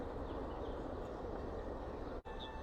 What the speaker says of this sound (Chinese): 看，火车经过村庄。